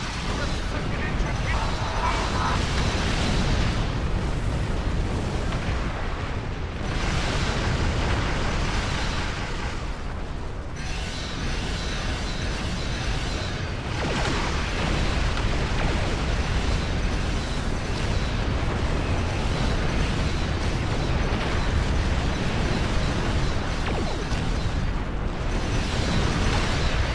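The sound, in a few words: explosions blowing up a fortress in the video game Star Trek Online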